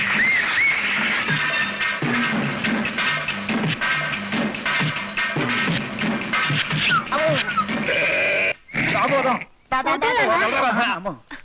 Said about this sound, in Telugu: రాజు గొర్రె గెలిచింది